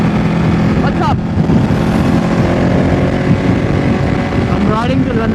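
A Ducati motorcycle ridden on the road toward Lonavala in the early morning, its steady engine drone buried under heavy rushing wind noise, with a voice talking over it.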